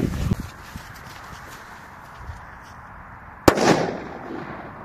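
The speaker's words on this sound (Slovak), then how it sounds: "tak ďalšiu petardu tu máme Bomba. Takže dáme si bombu vedľa jedného Screamu" Small Bomba firecracker set off beside a Scream firecracker outdoors, a single sharp close bang followed by a short crackling tail after a few seconds of faint ambient noise.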